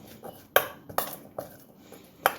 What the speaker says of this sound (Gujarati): હવે સૌથી પહેલું કામ એ કરીશું કે આપણે આ જે વસ્તુ છે બધી એને એકવાર લાઇટલી મિક્સ કરી લઈશું